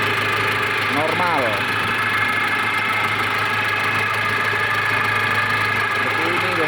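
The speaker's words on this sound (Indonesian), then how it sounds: "mesin forklift TD27 sudah hidup" A Nissan TD27 diesel engine on a 2.5-ton forklift idles with a steady, loud, rough clatter, and brief speech is heard over it.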